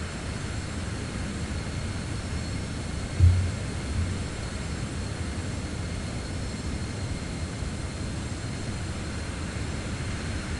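Citation X jet engine in Microsoft Flight Simulator 2024, a steady, even cabin-like jet roar holding constant throughout, with one brief soft bump partway through and no talk.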